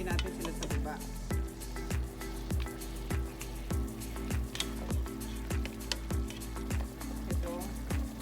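Chicken adobo made with 7-Up stirred in a pot, a steady run of soft, regular scraping strokes over a bubbling sizzle, close and moderately loud with no talk.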